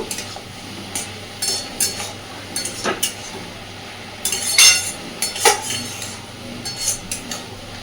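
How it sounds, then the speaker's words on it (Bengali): Bottle gourd curry being stirred in a pot and covered with a lid: scattered metallic scrapes and clinks of a spoon against cookware, with a few sharper knocks, close and intermittent against a quiet kitchen background. "ভালোভাবে মিশিয়ে দিয়ে ঢাকা দিয়ে দেব"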